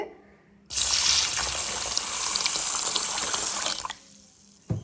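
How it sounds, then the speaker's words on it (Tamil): Water pours from a tap onto soaked urad dal in a bowl, a loud steady gushing splash that starts abruptly, runs for about three seconds, then stops, followed by a brief clunk. "இப்போ நான் இந்த உளுந்துக்கு தண்ணி விட்டு"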